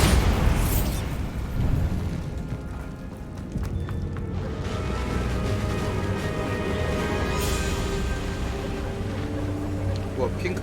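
Bombarda spell blasts in Hogwarts Legacy: a loud booming explosion bursts early, followed by a sustained rumbling, crackling debris wash with game music and ambience underneath, and a second sharper burst later on.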